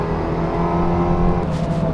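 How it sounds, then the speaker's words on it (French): Engine of a Smart Roadster Brabus coupé with a pneumatic gearbox humming steadily and close during driving, a dense low drone with a slight rise near the end and no voices. "le son quand on rétrograde, ça met un coup de gaz"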